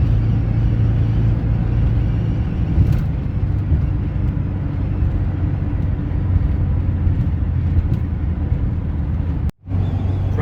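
A VW bus driving up a mountain pass on a fall day: a steady, loud engine and road rumble with a low droning hum runs throughout, with a short dropout near the end.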